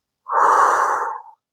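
A single long, breathy exhale during a yoga-inspired calisthenics exercise, close and fairly loud, lasting about a second with no speech.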